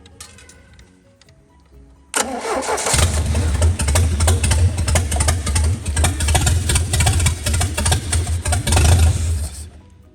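A Mercruiser 3.0 boat engine, freed after being stuck and still with a slight carburetor issue, cranks and catches about two seconds in, then runs loud and close with a steady throbbing idle before cutting off near the end.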